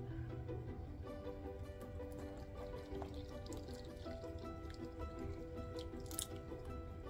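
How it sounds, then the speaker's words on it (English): Buttermilk, about one and a half cups, pours into a well in the flour for old-fashioned biscuits, a faint, steady trickle of liquid with a few soft drips over a low room hum. "now we're going to make a well in the center here and add in 1½ cups of our buttermilk"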